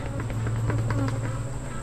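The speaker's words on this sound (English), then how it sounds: "sometimes when you open up a box and it's like, that's a lot of bees" Honey bees swarm and buzz inside an opened beehive box during an August hive inspection, a steady, dense drone held close and continuous throughout, with no speech.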